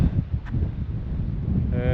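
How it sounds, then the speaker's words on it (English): Low, blustery rumble of wind buffeting the microphone on the Yorkshire coast, steady and close throughout the short stretch. "It's a bit windy"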